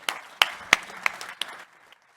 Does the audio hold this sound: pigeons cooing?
no